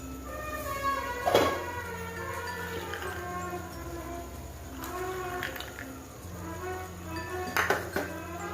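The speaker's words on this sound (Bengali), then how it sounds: "আমি এখন ঢাকাটা খুলে ছোলাটা দিয়ে দিচ্ছি" Metal pot lid lifted off a boiling pot on a Bengali home stove and chickpeas tipped in for a chalkumra (ash gourd) dish: a few sharp clinks and clatters over a steady low bubbling hum.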